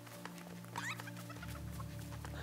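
A hen clucks in Lego Fortnite, a few short close clucks over a droning musical background, with a brief louder squawk near the start.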